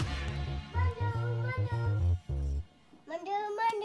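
Savannah cat meowing in a series of close, loud, drawn-out tonal calls, several long meows in quick succession, then a short pause and a final rising meow.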